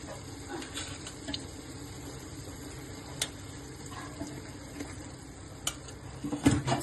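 Mutton biryani masala and yogurt being stirred in a pot, quiet scraping and spoon clinks over a low sizzle, with scattered sharper knocks toward the end.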